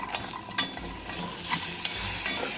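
Butter gets stirred in a hot pan, a steady crackling sizzle with scraping strokes from a utensil, close and continuous with no talking.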